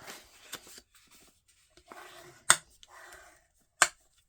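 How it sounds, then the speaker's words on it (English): Tapping on a glass craft mat, heard as sparse, sharp, close taps. Two louder hits stand out among fainter clicks and scrapes, and there is no talk. "That's just going to make a tapping noise on the glass mat."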